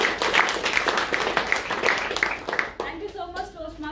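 An audience at a Toastmasters club meeting claps steadily for almost three seconds, a dense patter of hands, before the applause thins out and a voice starts speaking.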